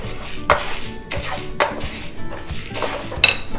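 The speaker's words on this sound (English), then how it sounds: "1 teaspoon of fennel, and half a teaspoon of fenugreek seeds, and we dry roast" Fennel and fenugreek seeds dry roast in a pan, stirred in a few sharp scraping sweeps with a dry rattling texture between them, close and moderately loud.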